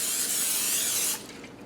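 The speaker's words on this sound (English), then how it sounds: "I'm spraying just a standard baking dish" Cooking spray hissing onto a standard baking dish, one steady spray burst lasting about a second before cutting off, close and clear with no talking.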